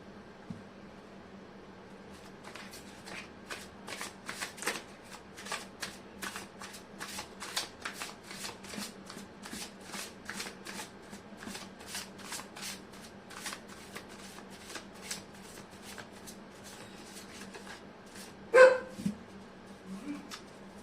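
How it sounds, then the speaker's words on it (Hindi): Tarot cards are shuffled by hand in quick, rhythmic riffling bursts repeating steadily for about twenty seconds, close and fairly quiet, with a brief louder knock near the end and a low background hum. "मैं कर लेती हूँ कार्ड की शफलिंग।"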